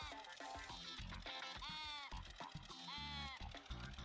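Sheep bleat repeatedly in a wizard-themed video game match, several loud wavering cries overlapping busy game sound effects and music, with no talking.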